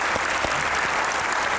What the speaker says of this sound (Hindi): आपकी भरपूर तालियों में सैयद सलमान गिलान।